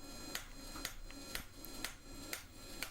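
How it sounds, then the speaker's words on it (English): Faint, evenly spaced strikes of a rounding hammer on metal ring out about twice a second, each a bright tap with a short ring, heard at a distance. "Back on my rounding hammer."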